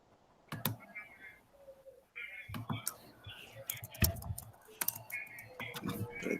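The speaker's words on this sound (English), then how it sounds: "You still typing?" Quick bursts of clicky keystrokes on a computer keyboard in a classroom setting, irregular clusters of taps starting and stopping, moderately close, with faint murmured voices in the background.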